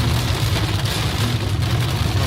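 Heavy rain hammers down outdoors in a continuous loud wash of drops, with a low rumble underneath and no speech.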